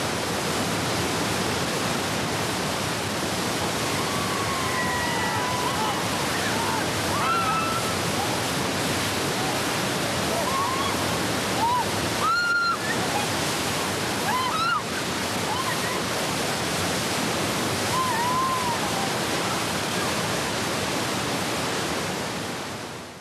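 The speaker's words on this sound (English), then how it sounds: "Okay, the Zambezi is known as one of the biggest white waters you can get in the whole world." Roaring white-water rapids on the Zambezi River make a loud, unbroken broadband rush of churning water throughout, with faint shouts and whistle-like calls briefly cutting through the torrent.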